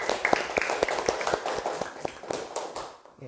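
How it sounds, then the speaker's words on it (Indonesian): An audience in a classroom claps in a quick, rhythmic run of sharp, distinct slaps that fade out near the end, with no one talking over it. "Oke, tepuk tangan dulu."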